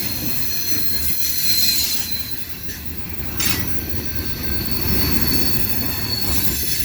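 Two CSX freight trains, including loaded coal cars, slowing into Hood Siding: a continuous high, steady wheel squeal over loud rolling rumble and rail noise, close by, with no talking.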